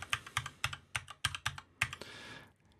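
Fingers type on a computer keyboard, seven quick clicking keystrokes in an uneven rhythm, close and fairly quiet, ending with a short softer rustle.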